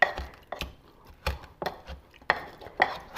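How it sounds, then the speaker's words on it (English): Garlic being mashed with salt in a kitchen, a series of sharp, irregular knocks and thuds close by, with no talking. "So I'm mashing this in with the salt."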